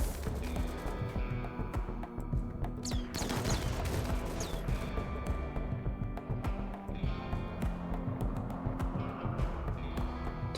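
Allied gunfire in the game Rimworld, a steady clatter of shots layered over a dense, continuous mix of game sounds and music, sustained and fairly loud throughout.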